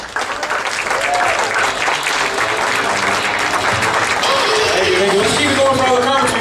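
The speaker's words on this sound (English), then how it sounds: "I need a big round of applause for the one and the only" A comedy club crowd breaks into loud, sustained applause and cheering for a Marine Corps veteran comedian as he takes the stage, steady throughout with some voices mixed into the clapping.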